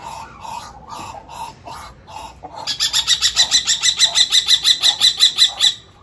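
Chickens and a rooster on a farm cluck near the microphone, starting with a few spaced calls, then a long run of quick, evenly pulsed clucks that grows louder before stopping abruptly.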